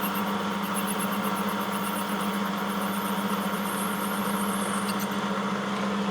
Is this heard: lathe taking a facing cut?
yes